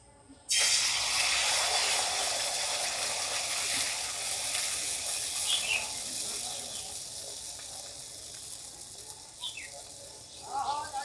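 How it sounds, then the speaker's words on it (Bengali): A ladle of pitha batter goes into hot oil and starts a loud, steady sizzling hiss that fades slowly over several seconds. A few faint chirps sound in the background. "ওই যে বাকি তেলটা আছে, আবারও 1 হাতা ব্যাটার নিয়ে দিয়ে দেব।"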